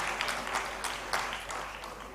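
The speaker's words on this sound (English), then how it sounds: "Let's have a round of applause for all the eminent panelists over here." Audience applause for a panel of speakers at a science education conference plenary, a steady broadband patter of many hands lasting throughout, moderately distant and without speech over it.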